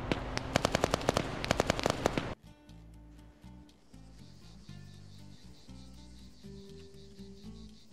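Rapid submachine gun fire from a video game, a PP2000 or Scorpion, rattling off as a fast, loud, evenly spaced burst for about two seconds before cutting abruptly to quieter game sounds.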